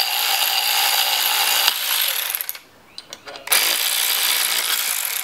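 A ratchet clicks rapidly and closely while undoing bolts on a turbo wastegate actuator from an E46 turbo setup, the clicking dropping out briefly before resuming.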